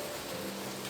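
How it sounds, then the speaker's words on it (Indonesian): Steady rain falling, a dense continuous hiss with no breaks, fairly loud and alone for about a second. "Seperti suara hujan."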